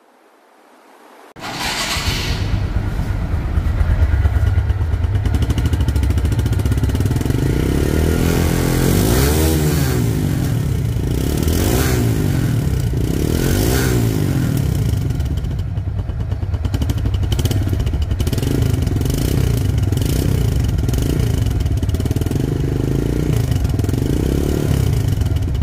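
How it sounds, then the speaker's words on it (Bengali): A used 2021 TVS Stryker 125 motorcycle starts up and idles loudly and close, with several revs rising and falling over its steady engine chug. "গাড়িটির সাউন্ড শুনলে আপনারা বুঝতে পারবেন যে গাড়িটির ইঞ্জিন কোয়ালিটি কেমন আছে"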